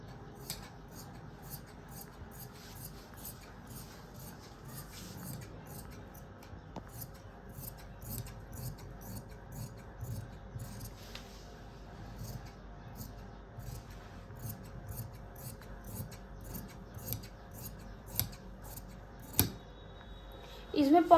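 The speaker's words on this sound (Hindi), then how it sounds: "अब मैं इसको फटाफट काट" Scissors cut trouser fabric with a rapid series of crisp snips and slicing rasps, quiet and close, repeating steadily for about twenty seconds with faint rustling of cloth between cuts.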